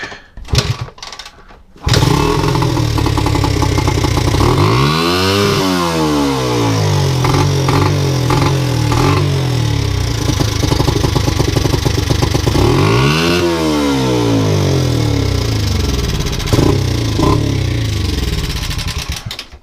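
An XR80 motorcycle engine, smoking from two-stroke oil, catches after a short noisy start and runs loudly nearby with a rough idle, rising into two distinct revs before settling again.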